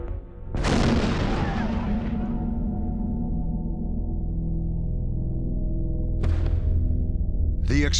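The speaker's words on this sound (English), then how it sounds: "The explosion instantly killed security guard Robert Sanderson." A sudden heavy blast booms out and rumbles on for several seconds, followed by a couple of sharper bangs near the end.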